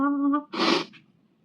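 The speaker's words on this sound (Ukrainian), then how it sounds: "Ой, зараз чихну, буде правда." A single close, loud human sneeze bursts out right after a short strained vocal intake, then fades into quiet breathing.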